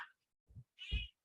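A domestic cat meows indoors, two short close cries, the second longer and louder, with a brief faint sound just before them.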